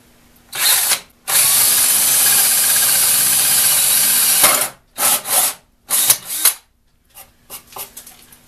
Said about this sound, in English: What I'm going to do is first drill a hole into this